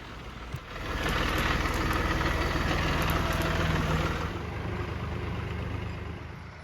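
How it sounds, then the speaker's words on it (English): The engine of a skid steer runs at a levee building site. It gives a steady, fairly loud mechanical drone that swells after a moment, holds, then eases back toward an idle, with no talking. "he's driven his skid steer down here"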